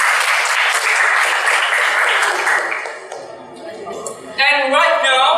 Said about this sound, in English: Everybody please give applause to ourselves.